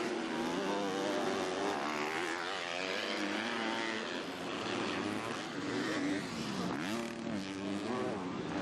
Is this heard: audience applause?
no